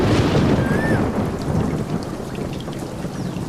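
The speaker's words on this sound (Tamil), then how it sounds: "மழை விட்டுருச்சு, நேரம் வேற ஆகிட்டே இருக்கு." Steady heavy rain pours down through a thunderstorm, with a deep continuous rumble of thunder rolling underneath the close, dense patter of drops, loud throughout and with no voices.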